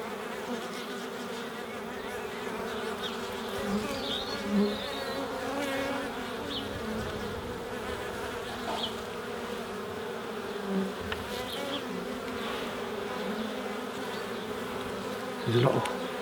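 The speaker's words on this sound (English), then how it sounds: "There's a lot of bees in here." A dense, steady hum of many honeybees buzzing together up close inside a hive, with occasional louder passes of single bees.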